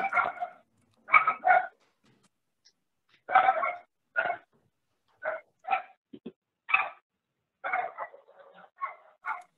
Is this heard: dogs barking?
yes